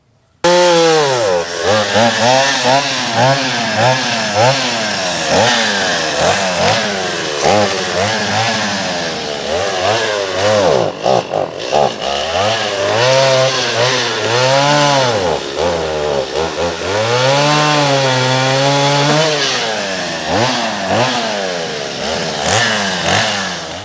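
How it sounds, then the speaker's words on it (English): A chainsaw runs close and loud for about twenty seconds while trimming trees to clear shooting lanes at a food plot, its engine revving up and down repeatedly as it cuts. "now we're going to do a little trimming on some of these trees and shooting lanes"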